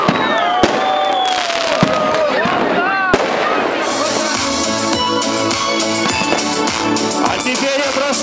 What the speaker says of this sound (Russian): Да здравствует праздничный новогодний салют!